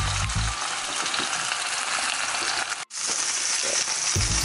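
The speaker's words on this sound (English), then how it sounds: "A nice sizzling. That's the sound we're looking for." A pot roast browning in a hot pan gives a steady, loud, close sizzle that holds throughout, with one very brief drop near the end.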